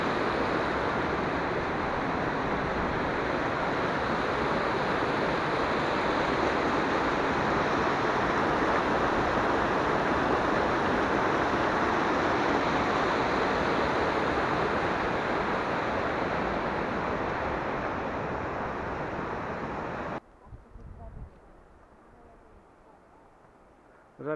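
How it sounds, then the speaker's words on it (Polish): A waterfall on the hiking trail to Rysy gives a loud, steady rushing roar that fills the scene for about twenty seconds, then cuts off abruptly to quieter ambience. "o ile nie zagłuszy mnie szum wodospadu"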